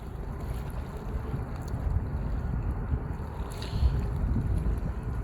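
A Potensic Atom drone flies into strong wind, its faint whirring buried under heavy, constant wind buffeting on the microphone, with no speech.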